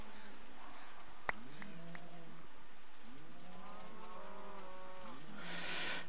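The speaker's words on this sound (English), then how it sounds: "those stupid cows down below that I can hear are kind of annoying" Cattle mooing in the Minecraft 1.2.3 video game, several drawn-out moos overlapping from below at moderate distance, with a faint click near the start and no talking.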